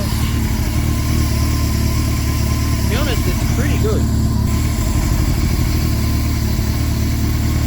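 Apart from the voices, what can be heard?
motorcycle engine idling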